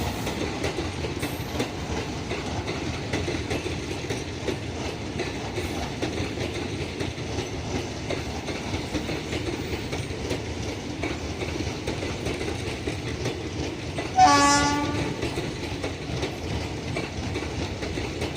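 Rajgir Haridwar Special passenger train rolling past with continuous wheel clatter and rumble, a short loud horn blast sounding near the end before the steady running noise resumes.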